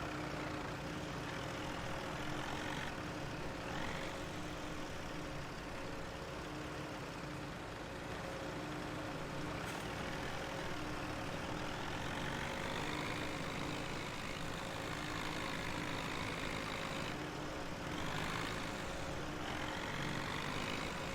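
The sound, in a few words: small tractor engine driving in Farming Simulator 17 video game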